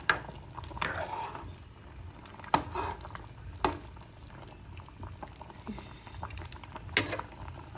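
A home-cooked dish is stirred and mixed in a pot, giving soft wet bubbling and sloshing with occasional sharp clacks of a utensil against the pot, at low, close-up level.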